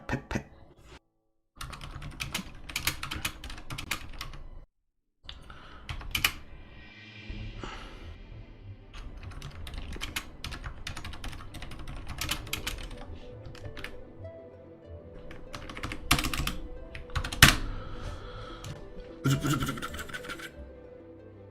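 Someone types on a computer keyboard in irregular bursts of rapid key clatter, broken by short pauses and a couple of near-silent gaps, with some louder thumps mixed in.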